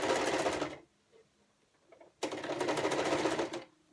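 Sewing machine stitching a fabric face mask seam with elastic, two close bursts of rapid, rattling needle strokes separated by a quiet pause.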